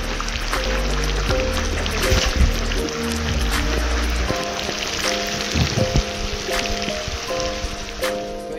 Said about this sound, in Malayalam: അടിപൊളി മഴയുണ്ട്, അടിപൊളി രസമാണ്